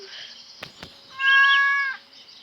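A single clear, drawn-out cat meow from the video game Stardew Valley rises above a quiet background, preceded by a couple of soft clicks.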